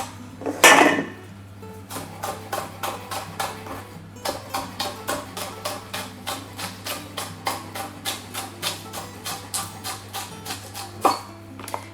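A knife slices spring onions on a cutting board in a steady run of crisp, evenly spaced chops, close and clear. An initial louder clatter comes first, then the rhythmic slicing continues without speech.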